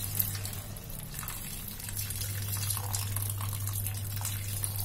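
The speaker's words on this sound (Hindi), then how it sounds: "तो ये तकरीबन मैंने एक कप पानी डाला हुआ है" About a cup of water pours steadily into a gravy cooking on the stove, a continuous gushing, splashing stream with a low hum underneath and no speech.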